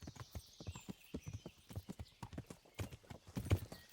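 Horse hoofbeats from riding in the video game Kingdom Come Deliverance: a steady, rhythmic clip-clop of hooves at a trot, clear and fairly close, continuing throughout with no talk.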